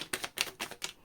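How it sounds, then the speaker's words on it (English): Tarot cards are shuffled in quick, close riffling bursts, about five crisp rapid flutters in a row, soft and alone with no voices. "Okay, last shuffle"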